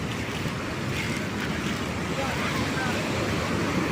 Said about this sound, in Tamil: இன்றைக்கி பார்த்திங்கன்னா கடல் ஆக்ரோஷமாக இருக்குங்க. பயங்கரமான ஒரு அலைகள்.